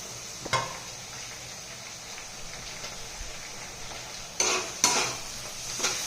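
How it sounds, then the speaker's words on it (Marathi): Tomato sizzling with golden fried onions in a pan for egg biryani, a steady low frying hiss with a few sharp clinks and scrapes of a spoon against the pan, close and fairly quiet. "कांदा सोनेरी रंगावर भाजलेला आहे, त्यामध्ये आता आपण टोमॅटो भाजून घ्यायचा आहे"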